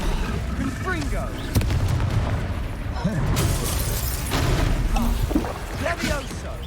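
Confringo fire spell cast in the video game Hogwarts Legacy, with a burst of blasts and booming impacts over game music and combat effects, loud throughout.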